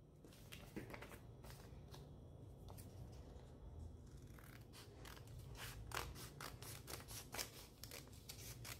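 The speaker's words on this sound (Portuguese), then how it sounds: "Aqui eu corto." Scissors snipping through craft foam sheet while making a Christmas star, a quiet close run of crisp cuts and scraping that quickens into rapid snips toward the end.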